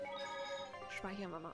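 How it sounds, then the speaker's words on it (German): A telephone rings in an electronic tone during play of Tales of Berseria while a person speaks over it near the end. "Ich hoffe, das habt ihr jetzt nicht so laut gehört, das Klingeln"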